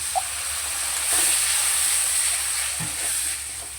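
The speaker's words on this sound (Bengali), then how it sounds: "অল্প দিচ্ছি একটু জল।" Water added to spice paste frying in a pan for a fish roe curry, a loud continuous hissing sizzle with a few soft stirring knocks, no talk.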